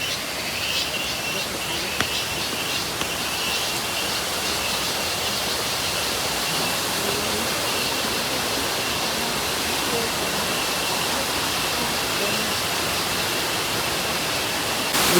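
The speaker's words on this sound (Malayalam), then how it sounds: "ഉരുക്കുഴി വെള്ളച്ചാട്ടത്തിൻ്റെ അവിടെ" Urukkuzhi waterfall at Kakkayam, a dense, even roar of falling water filling the whole stretch, steady and loud from nearby, with a few faint clicks on top and no voices.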